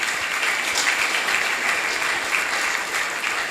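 A church congregation breaks into sustained applause during a revival prayer gathering, a steady, even wash of many hands clapping from a moderate distance throughout.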